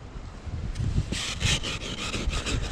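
A light, thin XTREME X3 all-terrain titanium scoop digs through sand in repeated gritty scraping strokes, close and fairly loud, with no speech.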